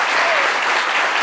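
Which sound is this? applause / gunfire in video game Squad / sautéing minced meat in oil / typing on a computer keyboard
applause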